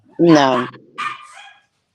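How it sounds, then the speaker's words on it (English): A little Chihuahua gives a quick burst of yappy barks close by, then a shorter, thinner yelp after a brief pause, with quiet around it. "Mom has a little bitty Chihuahua"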